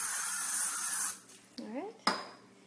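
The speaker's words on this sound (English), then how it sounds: "I'm using this Crisco canola oil, whatever you want, just grease this bowl. So I'm just going to spray it down." A short burst of Crisco canola oil spray hisses steadily over a bowl being greased, then cuts off, followed by a brief higher squeak and a sharp click.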